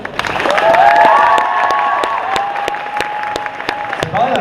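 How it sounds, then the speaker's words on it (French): Crowd at a cosplay contest applauding loudly and cheering, with a voice speaking over the noise and a few sharp claps standing out in the dense applause. "je pense que ça mérite quand même un tonnerre d'applaudissements."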